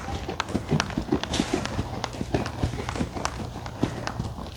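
A very tall, heavy horse moving at a steady gait, hooves clip-clopping in a regular rhythm of close, sharp thuds over a low background murmur.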